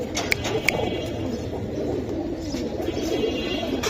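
Tota pigeons coo softly and steadily in a pen, a continuous low murmur of several birds with a few sharper clicks and flutters near the start, no talking.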